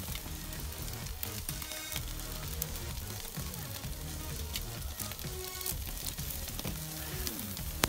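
Ribeye steaks searing in a frying pan at home, giving a steady, dense sizzle with crackles throughout, mixed with faint background music.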